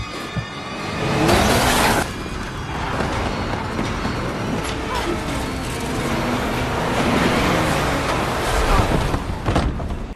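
A car roars close by in a nighttime film scene, nearly running a man down, with a loud engine surge and rushing road noise, sharp bursts and rumble continuing over a tense background.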